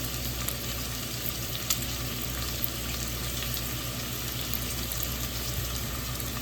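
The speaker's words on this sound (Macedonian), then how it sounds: "Ќе го пржам околу 8 до 10 минути." Veal frying in a pan for goulash, a steady close sizzle and crackle of meat in hot fat with faint stirring, continuous and alone.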